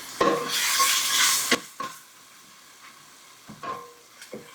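Spices stirred and toasting in a hot pot, a bright sizzling scrape for about a second and a half, then quieter stirring taps and light metal scrapes against the pan, close and without talk.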